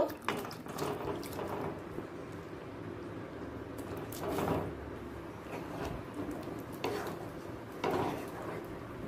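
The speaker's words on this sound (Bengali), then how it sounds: "পনির ভেজানো জলটা আমি ফেলে দেব না, আমি সেটাও দিয়ে দিলাম।" Water left from soaking paneer is poured into a spiced gravy in a home kitchen, giving a soft, splashing, gurgling pour in several bursts with faint clinks of cookware.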